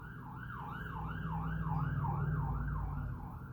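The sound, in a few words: emergency sirens going by outside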